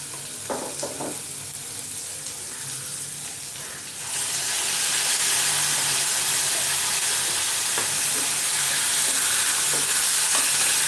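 Green pepper and tomatoes sautéing in a pan for green peas curry, a steady frying sizzle that jumps sharply louder partway through and then holds as a dense, continuous hiss with occasional stirring clinks.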